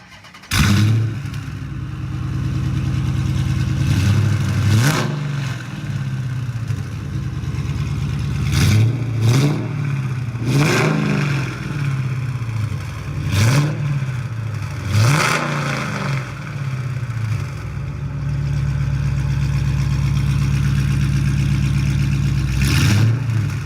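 A loud 2013 Dodge Charger R/T engine fitted with Kooks longtube headers revs repeatedly, climbing to a roar and dropping back to a rumbling idle between bursts, close by and sustained.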